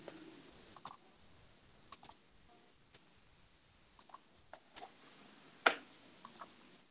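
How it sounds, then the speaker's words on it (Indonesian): A computer keyboard's delete key and mouse buttons give sparse, faint clicks, about a dozen spread irregularly over quiet room tone with no talking. "kita klik tombol delete di keyboard"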